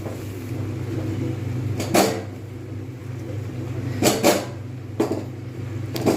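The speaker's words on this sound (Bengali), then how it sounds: "ঢাকনা দিয়ে দেবো" A lid set onto a pan of cooking spinach produces a few sharp clanks and clatters, spaced apart, over a steady low hum of the kitchen background.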